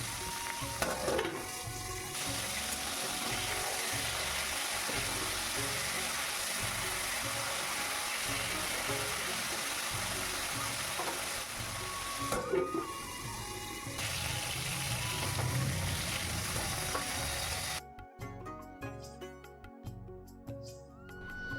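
Potatoes frying in a pan give a steady, close sizzle that runs unbroken for most of the clip, then thins out and turns choppier near the end.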